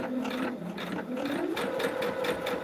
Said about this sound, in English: I'm just going to sew down this right here.